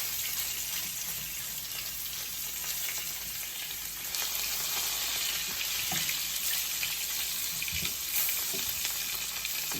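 Beef fat renders into tallow in a non-stick skillet, giving a steady, dense sizzle and crackle with small pops throughout, close and continuous.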